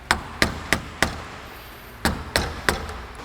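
A hammer taps on parts of a Honda power antenna clamped in a vise during a repair. There are seven sharp, distinct strikes, four in an even row, then a pause, then three more, close and fairly loud with no talking.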